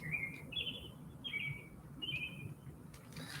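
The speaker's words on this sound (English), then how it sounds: "The birds are always talking to me and saying things." Several short, high bird chirps in quick bursts ring out over a soft, low background hum in an evening setting, fairly clear and near, with no talking.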